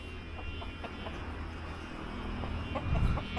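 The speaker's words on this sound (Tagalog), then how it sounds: "Ito yung mga manok." Several chickens clucking softly in close surroundings, with a low steady background hum and a louder rustle near the end.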